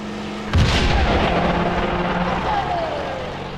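An anti-tank gun firing in the WWII tactics game Graviteam Tactics, one loud sharp blast followed by a long rumbling decay, with an engine-like drone underneath.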